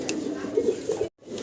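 A male Gola pigeon coos in short low throaty bursts, close by, with a brief gap of silence near the end.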